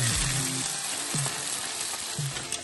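Seafood sizzles and crackles steadily in a hot paella pan, close and fairly loud, with a few clinks of a utensil against the metal.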